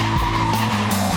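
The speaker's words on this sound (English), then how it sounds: "to be able to go out there and slalom drift through traffic" Tires squeal and skid loudly and continuously as a car drifts in a slalom through traffic, the screech holding steady with an engine droning underneath.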